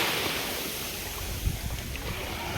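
Sea waves wash steadily at Palolem beach in South Goa, a broad, hissing surf roar with wind buffeting the microphone and no clear break between swells.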